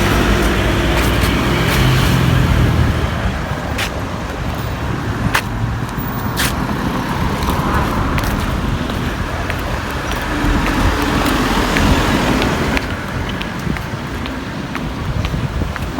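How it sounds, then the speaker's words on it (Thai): Busy road traffic streams past a zebra crossing, with steady car noise and engine wash passing close by. Wind buffets the microphone throughout. "มาข้ามทางมาลายนะคะรถเยอะมาก"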